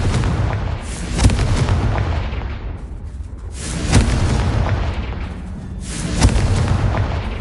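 Spell explosions from Confringo and Bombarda in the Hogwarts Legacy video game: three heavy, booming blasts about every two and a half seconds, each followed by a rumbling, crackling tail over a dense, noisy background.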